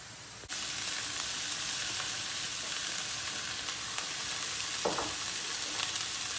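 Meat sautéing in a pot on the stove for an eggplant dish, a steady loud sizzle and crackle that starts abruptly and runs continuously, with a brief stir or scrape near the end.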